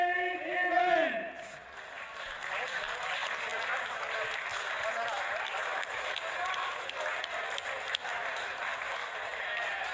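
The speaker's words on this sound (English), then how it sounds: "round of applause for the winner of our main event" Crowd at a boxing main event applauds the winner, a sustained wash of clapping and cheering from a distance, following a short burst of an announcer's voice at the start.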